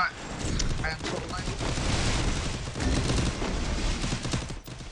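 Rapid, dense gunfire from the Free Fire video game rattles in continuous bursts, loud and close, with excited voices talking over the shooting.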